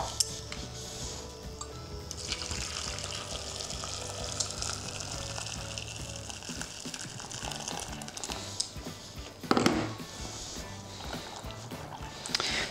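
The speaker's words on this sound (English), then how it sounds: "we need to get the pasta into the pan and cover it with boiling water." Boiling water pours steadily into a pan of pasta with a continuous rushing gush, a brief metallic clatter partway through, then the pouring continues.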